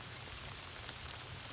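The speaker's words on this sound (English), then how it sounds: "so the sleet is raining down" Sleet falling outdoors in a winter storm, with ice and about two feet of snow around, gives a steady, dense hiss of pellets striking surfaces, even and continuous throughout with no voices.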